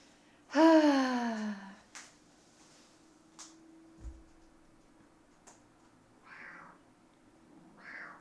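A house cat gives one loud, close, drawn-out meow, followed by a few faint ticks and soft thumps in a quiet indoor room.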